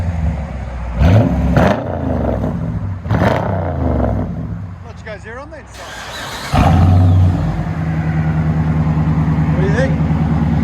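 A white Dodge Durango Hemi with a new muffler and blue exhaust tips, heard from inside the cabin: a deep, steady engine rumble that rises in volume partway through, with people talking over it early on.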